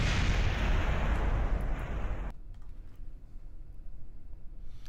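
A jettisoned rocket stage blows apart in Kerbal Space Program, a loud, dense roaring blast that holds for about two seconds, then cuts off abruptly to a quieter rumbling hiss.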